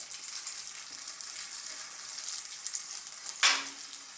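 Lumpia spring rolls, vegetarian tofu and bean sprout, frying in hot oil in a pan over medium heat, giving a steady close sizzle throughout with a sharper burst near the end.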